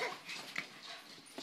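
A pet puppy gives a few faint, brief whimpers and soft yips indoors, quiet and close.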